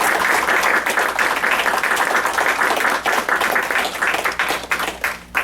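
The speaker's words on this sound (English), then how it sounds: "Big round of applause." Applause from a crowd at a second-degree black belt martial arts ceremony, a dense, lively clapping that holds strong throughout and begins to thin near the end.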